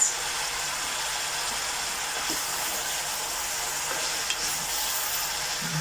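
Kale cooking in a pot on a stovetop gives a steady, even sizzle and hiss, with soft stirring bumps now and then. No voices are heard.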